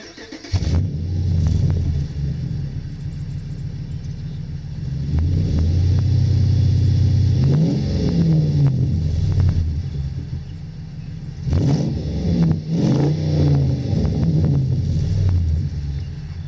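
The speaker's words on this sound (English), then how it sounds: "it's essentially a truck with what sounds like a muscle car engine" A modified 2005 Dodge Ram 1500 SLT engine starts and rumbles at a deep idle, then revs in two loud, rising surges with a muscle-car growl, heard close with no talking.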